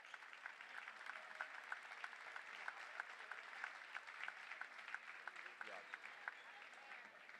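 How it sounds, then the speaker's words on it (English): A gym crowd at a boys' basketball senior recognition gives a round of applause, faint and steady clapping with some sharper individual claps throughout. "If you guys could stand for a round of applause."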